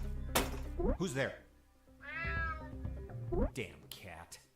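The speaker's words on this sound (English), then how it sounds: "Damn cat." A cat meows several times close by, plaintive drawn-out cries with a longer wavering yowl in the middle, mixed with voices talking.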